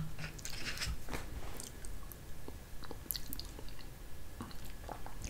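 Someone chews Quaker instant butter grits at breakfast, producing soft, close, wet chewing and squishing with small irregular bites, fairly quiet and without talk.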